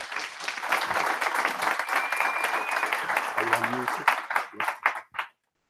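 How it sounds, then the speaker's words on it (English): An audience applauds a conference speaker at a London web performance meetup, steady dense clapping throughout that thins into scattered claps and stops near the end. "so I'd just like to give a big round of applause to Pat"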